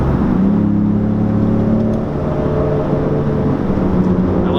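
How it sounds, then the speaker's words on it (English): A 2017 Ford Raptor truck accelerates hard in a steady, loud engine roar with a rising whir, the electronic wastegate sound blending into the drive, with no talking. "I love that electronic wastegate sound."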